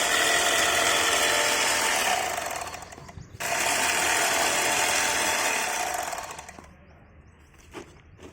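A bag stitching machine sewing up bags of peat compost on an organic farm runs in two loud, close bursts of rapid mechanical clattering, separated by a brief pause and followed by quieter handling noise.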